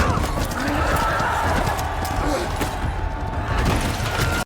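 Horse hooves clatter at a gallop through a busy, loud battle scene in a medieval fantasy drama, with clip-clop beats and neighing mixed into dense crowd and clash noise.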